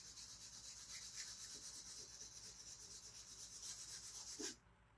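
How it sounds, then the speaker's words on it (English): A sanding block rubs back and forth on a wooden house edge, taking off transfer paste in steady, close, quiet scraping strokes that stop abruptly near the end. "I'm going to grab a sanding block. I'm going to sand off the paste that got on the edge."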